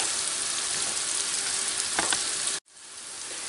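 Chopped onions frying in plenty of olive oil in a pan, a dense close sizzle and crackle that runs steadily, cuts out briefly, then builds back up to a lively frying hiss.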